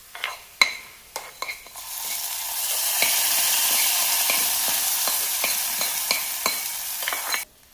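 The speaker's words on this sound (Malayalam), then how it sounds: "കടുക് വറുത്തത് കറിയിലേക്ക് ചേർക്കാം" A few sharp utensil clinks come first, then a fried mustard seed tempering pours into curry with a sudden sustained sizzle and scattered spoon taps, close and fairly loud.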